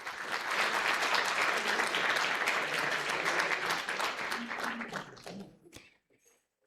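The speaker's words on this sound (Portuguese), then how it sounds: "Eu acho que isso merece uma salva de palmas a esse momento" A ceremony audience applauds at the launch event for a new brand and territorial management institute, broad steady clapping filling the room for about five seconds before trailing off into near silence.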